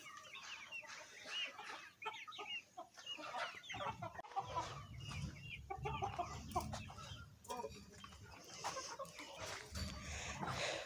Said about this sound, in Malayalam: പല തരത്തിലുള്ള കോഴികളുണ്ട്